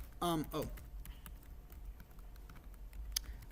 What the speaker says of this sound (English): Yes, I know it's a bit much typing